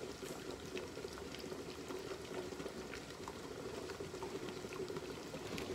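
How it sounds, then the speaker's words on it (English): Heavy rain pours outside in a dense, even wash of patter, moderately quiet and steady throughout with no voices. "It is pouring outside."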